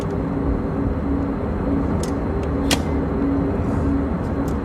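Steady, loud engine roar of an airplane in flight during a test flight, a continuous broadband drone with a few faint clicks and no talk.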